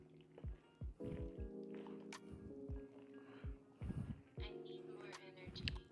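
Melted cheese is folded into cooked macaroni in a pot, producing soft, wet squelching and squishing in repeated strokes, close and fairly quiet.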